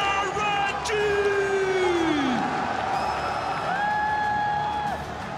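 A large crowd at a League of Legends esports semifinal in Paris cheers and applauds continuously, with whoops and loud yells rising above the steady roar.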